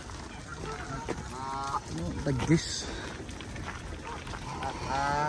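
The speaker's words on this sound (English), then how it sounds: "The old ducks and swans are having a rave in there." Ducks and swans calling and honking in bursts at Crystal Palace Park in London, mixed with people talking nearby and steady outdoor background noise.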